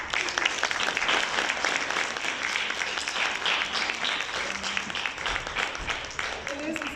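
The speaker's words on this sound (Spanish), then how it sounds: "Un aplauso, por favor" An audience applauds a speaker being introduced at a criminal sociopathology lecture, with sustained clapping throughout and a faint voice over it near the end.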